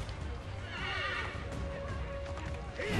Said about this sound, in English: He's on a damn horse.